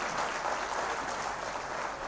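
Audience clapping at the 24th convocation of Dr. Rammanohar Lohia Avadh University in Ayodhya, a continuous, even patter of many hands heard at moderate distance, fairly quiet and with no voice over it.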